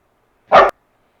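A husky in an animation gives one short, sharp bark, loud and close, with silence on either side.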